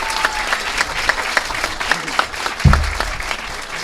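At a dedication ceremony and ribbon cutting in San Carlos, a crowd gives a round of applause for Lidia Maldonado, with moderately loud, uneven clapping and a thump partway through.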